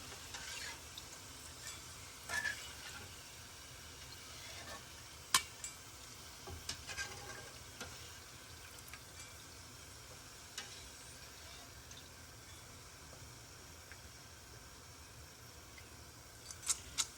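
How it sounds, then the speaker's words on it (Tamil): Chana dal held on a ladle dipped into hot oil fries with a faint, steady sizzle. Scattered small clicks and pops run through it. "நம்ம இந்த கரண்டியில் வந்து பருப்பை போட்டுட்டு நம்ம அப்படியே எண்ணெய்க்குள்ளே டிப் பண்ணி வச்சுட்டு பொரிஞ்சதும் எடுத்துக்கலாம்"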